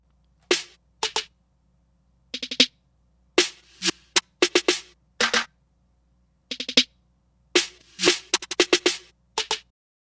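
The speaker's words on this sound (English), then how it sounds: "I have a snare loop playing in the background" Snare drum loops from the Loopmix plugin by Audiomodern, crisp dry hits in short clustered bursts with silent gaps between them, spread unevenly across several seconds over a faint low hum.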